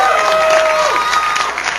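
A studio audience claps and cheers loudly in a brief, dense burst, with a few shouts mixed into the applause.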